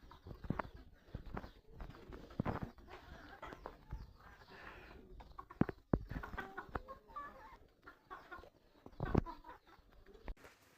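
Chickens cluck and murmur while pecking at feed in a rural household yard, scattered close calls over clattering and rustling, with some loud sharp knocks and background household noise.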